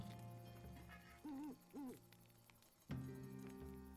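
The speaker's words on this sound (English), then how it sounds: "The owl's still hooting off" An owl hoots in the video game Fell Seal, two distinct wavering hoots standing out over soft game ambience and tones.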